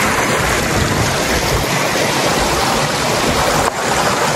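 A river stream flowing near a suspension bridge, heard as a steady broadband rushing of water throughout, loud and close, with one brief dip near the end.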